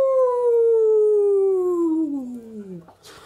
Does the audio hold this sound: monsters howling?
yes